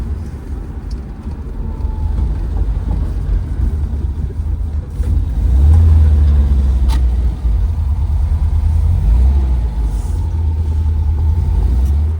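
A 1972 Volvo P1800E rolls steadily along a road with a low, deep engine rumble and tire noise, swelling slightly as it passes, no voices.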